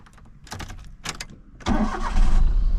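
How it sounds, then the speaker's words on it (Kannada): A 2004 Maruti Alto car: a few clicks from inside the cabin, then the engine catches with a sudden start and settles into a loud, steady idle that rises slightly. "ಈಗ ಇಂಜಿನ್ ಸ್ಟಾರ್ಟ್ ಮಾಡೋಣ."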